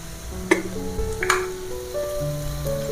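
Tomatoes seasoned with salt sauté in a pan for a Kerala-style prawn roast, producing a soft sizzle with two sharp clinks of a utensil on the pan and a faint background hum.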